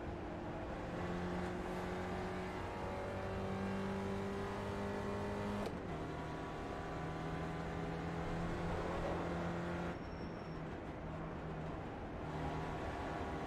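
A Spec Racer Ford engine drones steadily from inside the car on an out lap at Lime Rock, close and loud, pitch rising and dropping through gear changes with no talking.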